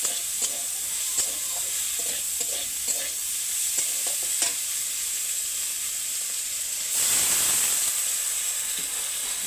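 Potatoes sizzle and fry in snail curry masala as they are stirred in the pan, a steady close hiss with scraping stirring strokes, swelling briefly louder near the end.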